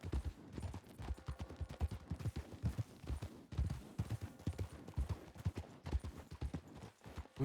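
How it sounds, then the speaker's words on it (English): Several horses clip-clopping at a trot on hard ground outside a medic building in the Red Dead Redemption 2 video game, uneven overlapping hoofbeats kept fairly quiet throughout. "Goodness, there's a lot of horses outside the medic."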